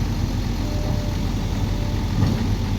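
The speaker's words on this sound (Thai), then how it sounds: "เอาแมคโครช่วยดันนะคะ แล้วเอารถไถ เอารถไถดึง" Steady low engine rumble of an excavator and a tractor idling and running continuously, close by, with no talking.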